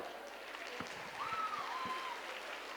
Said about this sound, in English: Give them your love with loud applause.